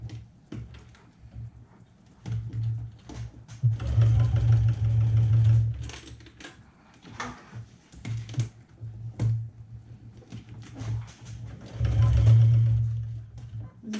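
A sewing machine runs slowly through many fabric layers while lining a bag, its motor humming in short bursts separated by pauses, with faint clicks and handling noises in between.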